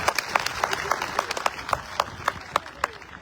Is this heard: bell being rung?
no